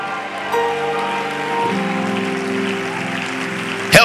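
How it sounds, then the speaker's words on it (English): A church congregation at a midweek teaching and communion service claps together in a dense, steady wash of applause with sustained music tones beneath, ending on a sharper burst. "Give the Lord a big clap"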